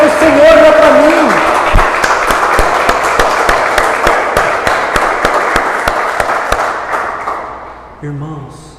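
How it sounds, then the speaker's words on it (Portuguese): A church congregation applauds during a sermon, with dense, sustained clapping that slowly thins out while a preacher's voice carries over the start. "Aplauda mais forte, porque é para o Senhor, não é para mim."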